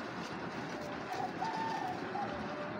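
A pair of stone-eyed Mili pigeons coo softly, with a few short, low, rolling calls in the middle over a steady background hiss.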